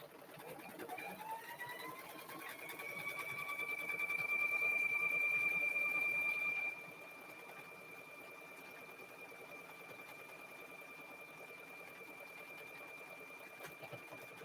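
A sewing machine stitches at a quiet, even pace, its motor hum rising a little for a few seconds of faster running before settling back to a steadier, softer drone.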